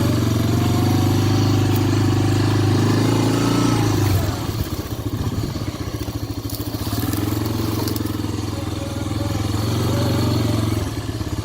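Off-road vehicle driving through Tularosa valley desert, engine droning steadily, with crackling and clattering as it pushes over dry bushes midway through.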